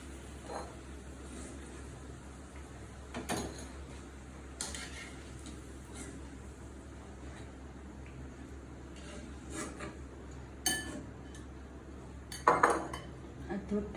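Fried pithas for Barishal-style date palm pitha lifted into a bowl, with scattered light clinks and scrapes of metal utensils and dishes over a low steady kitchen background hum.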